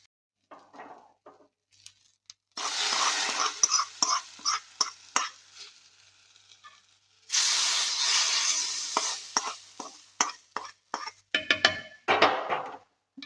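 Fried tempering is poured into a brinjal and jackfruit-seed curry, giving two bursts of hissing sizzle mixed with clattering pot and spoon knocks, with quieter pauses and scattered taps in between.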